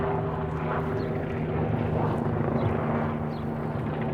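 Helicopter flying overhead, a steady droning rotor and engine rumble with tonal hum that stays loud and continuous throughout, no voices.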